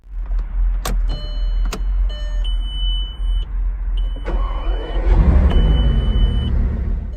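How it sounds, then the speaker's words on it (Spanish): Bugatti Veyron start sequence heard from inside the car: a series of electronic chimes and beeps with clicks, then the engine catches and settles into a deep, loud rumbling idle in the final seconds. "Cuando presionas el botón de arranque te recibe un sonido tremendamente distintivo desde el interior del coche."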